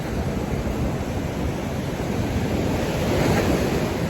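Ocean surf rolls onto a beach on a morning walk, a steady broad wash of breaking waves mixed with wind buffeting the microphone, loud and unbroken.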